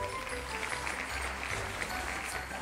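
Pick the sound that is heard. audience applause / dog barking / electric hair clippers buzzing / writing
audience applause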